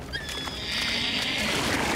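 A horse lets out a high, drawn-out whinny that trails off, over a steady rushing background noise.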